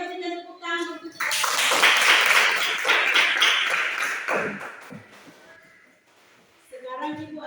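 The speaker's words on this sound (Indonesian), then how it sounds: "Mari kita berikan tepuk tangan untuk kita." Classroom students clapping hands together in a loud burst of sustained applause lasting several seconds, fading out, with children's voices calling out before and after.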